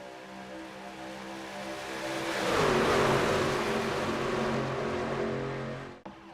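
Pickup truck race engines on the Daytona International Speedway oval in a racing sim, a pack droning steadily before swelling into a loud, rising roar as trucks accelerate past, then fading with a sharp click at the end.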